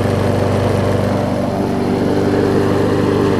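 A Yard Pro push mower with a Kohler engine runs steadily close by, a continuous loud rumbling drone with no pauses and no talking.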